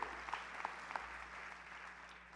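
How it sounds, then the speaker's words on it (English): A church congregation at a Sunday evening service claps together, the applause faint and distant with a few sharper individual claps standing out over a steady patter. "Give the Lord a hand clap."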